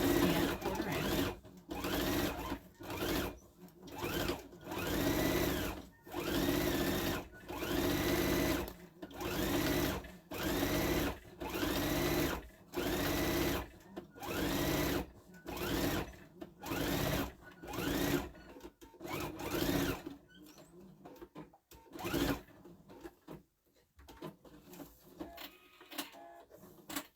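A sewing machine stitches fabric for a bag with a 1/4 inch seam, running in repeated short bursts of rapid mechanical whirring close by. The last few seconds are quieter with scattered handling noises.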